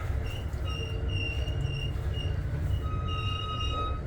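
Riding aboard an Exo commuter train on the Vaudreuil-Hudson Line as it slows toward a stop: a steady low rumble of wheels on track with faint high brake squeals drifting in and out.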